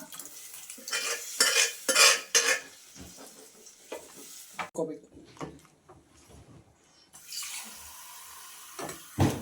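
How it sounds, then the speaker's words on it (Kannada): Lentil cooking water poured into drumstick sambar in a pot and stirred, with close splashing, liquid sloshing and metal spoon clinks against the pan, a gap of quieter stirring midway, and a voice speaking over parts of it. "ಇದಕ್ಕೆ ಬೇಳೆ ಬೆಂದಿರೋ ನೀರು ಹಾಕ್ಕೊಳ್ತೀನಿ."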